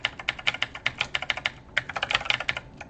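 Rapid, steady typing on a computer keyboard, a dense stream of crisp close key clicks with a short pause midway before the clatter resumes.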